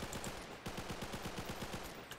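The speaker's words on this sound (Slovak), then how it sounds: "Je to full auto zbraň." Full-auto battle rifle in Garry's Mod fires a steady rapid burst of shots, a brief pause near the start, then continuous even-paced gunfire, loud and close, with no talk.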